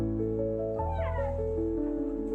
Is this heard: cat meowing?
yes